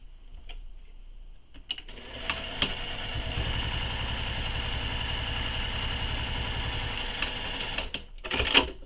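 A sewing machine sews a mini crossbody bag, with a few scattered clicks before it settles into a steady, even run of rapid stitches for several seconds and then stops.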